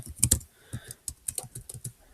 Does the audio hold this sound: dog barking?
no